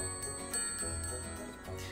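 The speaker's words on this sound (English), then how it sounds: "Ring the bell." A bell rings in the video game Super Mario RPG, with repeated light chimes over steady game music.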